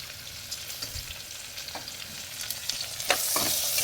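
Tomato sautéing with onion, green chilli and curry leaves in a pan, giving a faint, steady sizzle broken by occasional scraping stir strokes, with no voices.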